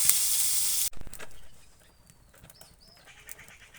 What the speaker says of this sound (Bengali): এভাবে আমাদের সব বেগুন ভাজে নিচ্ছি